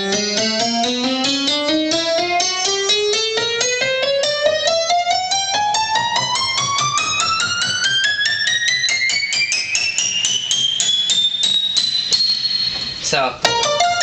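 Rising glissando of sharpened, bright piano tones from the iGrand piano app on an iPad, notes climbing steadily in pitch over about thirteen seconds at a constant loud level, ending with a brief clunk.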